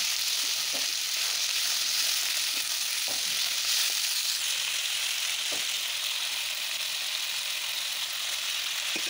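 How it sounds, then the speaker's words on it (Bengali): Potatoes and chopped onion fry in a wok with a constant bright sizzle, broken by a few soft stirring knocks, all fairly quiet and without voices. "পেঁয়াজের মধ্যে আলুটা আমি একটু ভাজা ভাজা বা কষিয়ে নিয়ে"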